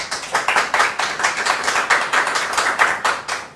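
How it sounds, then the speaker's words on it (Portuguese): A studio production crew applauds at the close of a televised debate show, a steady patter of many hands clapping fairly close and continuously for several seconds with no talking. "Nossa produção aqui está aplaudindo."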